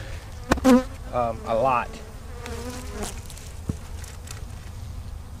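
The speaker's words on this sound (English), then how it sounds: "just a very packed box of bees" Honey bees buzzing close up inside an overpacked single-brood hive box, a steady low hum with a few louder passes near the start as a voice briefly speaks.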